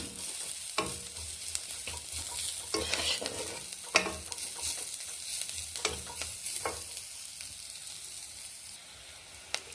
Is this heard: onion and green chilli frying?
yes